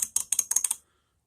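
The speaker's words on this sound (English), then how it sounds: "Here, how fine that clicking is" A Walmart 90-click ratchet being turned gives a quick run of about eight fine, crisp clicks at close range, alone in the clip, before it falls silent.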